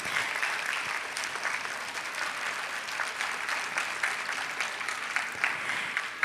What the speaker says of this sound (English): Please give her a good round of applause.